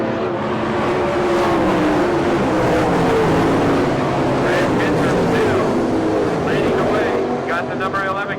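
A pack of 410 non-wing sprint cars races around a dirt track, engines roaring steadily with rising and falling pitch as cars pass, all under constant race commentary.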